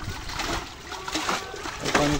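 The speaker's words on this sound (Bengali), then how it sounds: "নৌকায় পানি সেচার কাজ চলতেছে" Water is bailed out of a beached fishing boat, with intermittent splashes and sloshes close by under people talking.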